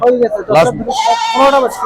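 A goat at a busy livestock market gives a couple of wavering, nasal bleats close by, with the second drawn out, against background murmur.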